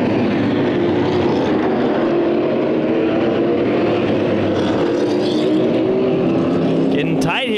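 Late model race cars roar around Havasu 95 Speedway in Lake Havasu, Arizona, engines droning loudly and continuously as cars pass, with an announcer talking over the racing.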